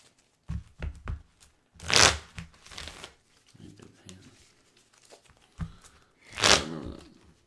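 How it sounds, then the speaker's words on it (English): A Pokémon trading card deck being shuffled at a card game table, with a few quick riffles and two louder, longer bursts of cards snapping together, all close up while people talk. "Shuffle and draw 5."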